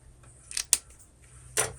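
Scissors snip through green paper craft material for a Christmas gift project: three short, crisp cuts, close and sharp, separated by brief pauses in an otherwise quiet room.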